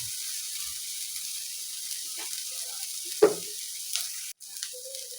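Ginger-garlic paste sizzles steadily in a hot pan for an egg ghotala, a constant close hiss with a few soft stirring knocks and scrapes.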